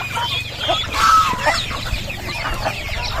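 Several turkeys gobble and cluck nearby in a steady outdoor barnyard chorus, with no talking.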